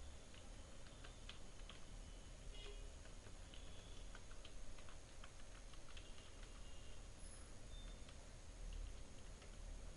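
Fingers type on a computer keyboard while entering form details, producing a quiet, irregular patter of light key clicks over a faint steady hum, no voices present.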